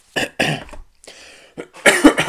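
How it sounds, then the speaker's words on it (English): A few sharp, close coughs with short pauses between, followed by a louder burst of throat-clearing coughs. "Sorry, I mean to cough on the microphone"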